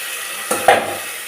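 Ginger garlic paste drops into a hot pan of softened onions for pepper chicken, giving a short burst of sizzle and a scrape of stirring, close and brief.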